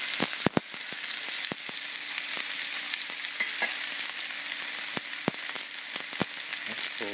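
A swordfish steak sears in a hot pan, giving a steady, close sizzle with occasional sharp clicks and taps from the pan or utensil and no talking.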